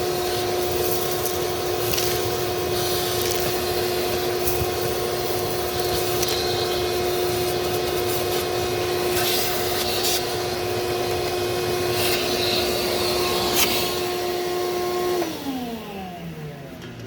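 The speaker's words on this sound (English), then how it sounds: "got my shop vac out. Let's suck this stuff out of here." A shop vac runs loud and close with a steady whine, sucking debris out of a spot during a starter installation, with occasional rattles of debris, then winding down as its pitch falls near the end.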